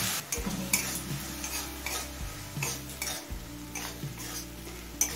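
Water added to spices in a pan for a prawn and cucumber curry brings a soft sizzle, with repeated utensil scrapes and taps against the pan over a low hum, fairly faint and without speech.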